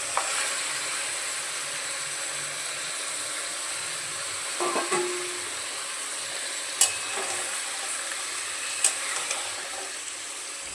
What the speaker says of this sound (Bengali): মশলাটা ভালো করে কষিয়ে নেওয়ার পর এর মধ্যে দিয়ে দেবো ম্যারিনেট করে রাখা মাটনটা।